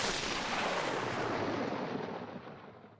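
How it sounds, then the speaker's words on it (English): A lightning strike from the video game Star Stable, a broad crackling thunderous blast that starts at full strength and rolls off slowly over about three seconds. "Lightning strike."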